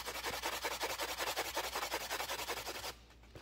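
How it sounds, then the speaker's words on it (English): Rapid rhythmic rubbing strokes of buffing on the back of a wire jewelry piece, a decorative hook and clasp, steady and close for about three seconds before stopping abruptly. "So I'm going to do the same thing on the back, just buffing that out."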